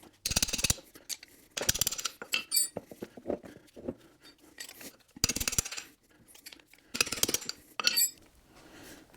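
A hand ratchet works loose 15 mm bolts on a T5 transmission tailshaft housing, giving bursts of rapid metallic clicking separated by pauses, with light clinks of metal parts between them, close and without voices.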